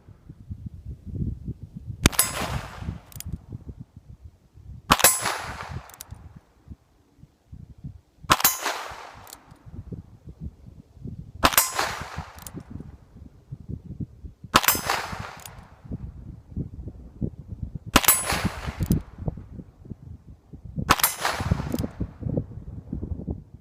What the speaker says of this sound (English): footage of me shooting this beautiful Ruger Single 10 at those fantastic AR-500 steel hard targets